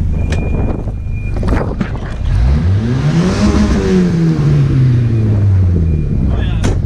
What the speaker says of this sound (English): I'll give you guys a little rev here.